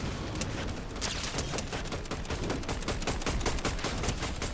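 Rapid bursts of gunfire crackle continuously and loudly in a Fortnite Zero Build match, the shots densely packed into a close, sustained volley.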